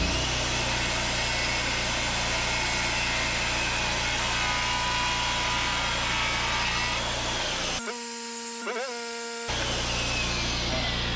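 A power saw cuts wooden wall studs to length during house framing, a loud continuous rough whine that runs nearly the whole time, then briefly drops away to a pitched spin-down before resuming.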